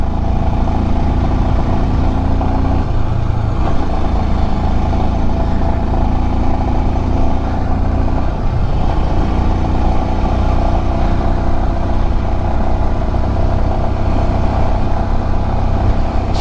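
Motorcycle engine held at full throttle while climbing the high mountain road of Umling La pass carrying two riders, a loud continuous strained drone with rushing wind and little change in pitch throughout.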